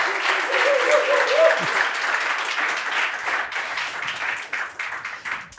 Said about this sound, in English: So please give another round of applause to our 2 master debaters.